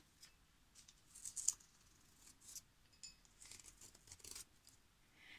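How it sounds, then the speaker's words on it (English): Scissors snip through cardstock to cut out circles for a gift-wrapping craft, giving faint, close, irregular crisp cuts and light paper rustles with no talk. "cut two similar circles"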